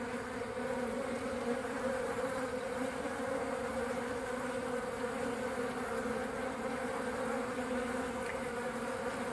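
Honeybee workers and drones hum steadily at a beehive during swarming, a dense continuous buzz close by with no breaks and no voices.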